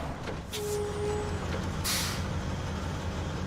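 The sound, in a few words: truck noises in the video game Gran Turismo 7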